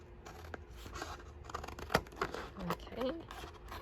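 Scissors snipping through paper while a base piece is cut out for a craft project, a quiet close series of crisp cuts and rustles with soft handling noise.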